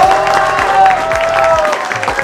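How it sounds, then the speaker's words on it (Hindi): An outdoor street crowd at a Mumbai rap cypher claps and cheers in a short, loud burst, with sustained tones and rhythmic low thuds running underneath. "तो एक बार अपने दिल से भाई के लिए भी तालियां बजा दे रहा"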